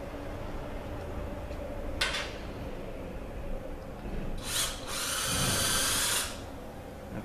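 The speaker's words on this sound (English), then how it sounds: "I got my drill set up, and we're going to drill." A power drill boring into a 48RE transmission valve body during an overhaul: a short whine burst, then a longer burst of several seconds, close up over quiet background.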